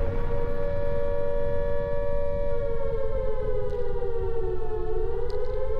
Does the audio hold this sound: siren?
yes